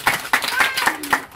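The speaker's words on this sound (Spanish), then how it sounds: "Aplauso." Several sharp handclaps land in a loose rhythm at a family show for mothers and children, crisp and close, with voices murmuring between the claps.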